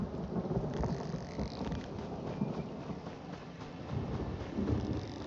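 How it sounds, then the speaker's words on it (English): Steady rain with low rumbling thunder rolling through a stormy outdoor scene in the video game Elder Scrolls Online, a continuous wash of downpour with a few heavier booms swelling and fading. "Accompanied by the beginnings of rain and thunderclaps."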